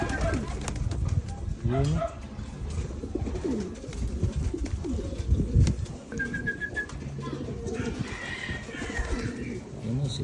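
Pigeons flying free in a Filipino backyard loft, with bird calls and soft cooing scattered under frequent nearby talk and a dog's bark, plus a few short whistles.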